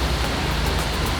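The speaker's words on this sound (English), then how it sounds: "It's raining today" Steady rain falling on a street in Athens, an even broadband hiss without a break, moderately loud and continuous.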